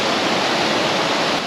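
A river rushes steadily nearby during a hike, giving a loud, unbroken wash of flowing water with no voices over it.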